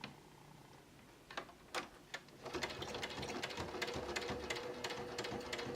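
A sewing machine hems the edge of a blanket, with a few slow single stitches first, then a steady, rapid, close rattle of stitching. No speech is heard.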